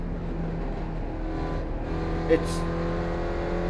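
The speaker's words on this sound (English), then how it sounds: "it's called the Spec Racer Ford." Spec Racer Ford race car engine in the iRacing sim, a steady droning hum held under people talking, with a brief click near the end.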